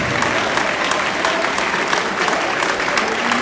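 A church congregation applauds steadily and loudly in praise of Jesus Christ, a dense, continuous wash of clapping with voices mixed in.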